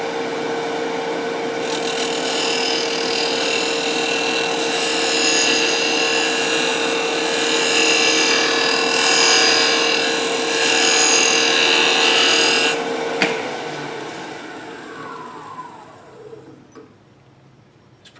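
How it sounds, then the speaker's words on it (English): A side cutting scraper shaves a spinning wooden secret ball box on a wood lathe, making a steady, bright scraping hiss over the motor's hum that stops abruptly, leaving the lathe to spin down. "this tool is a side cutting scraper"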